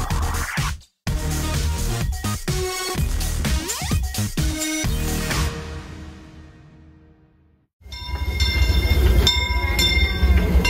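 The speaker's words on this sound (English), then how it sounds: "Inside the train" Disneyland theme-park train rolling on rails, with loud rumbling wheels, clanks and squeals that fade to near quiet before a sudden bright metallic screech and roar resumes; no talk.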